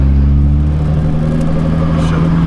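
A Nissan GT-R idles close by with a steady low engine rumble, then the sound cuts off abruptly near the end.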